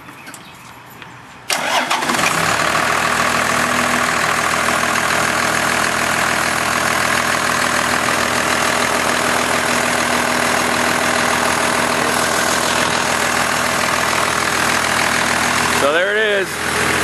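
A Cummins turbo diesel engine in a Ford F150 cranks and catches, then settles into a steady, loud, rough idle that runs on at close range; a brief voice is heard near the end.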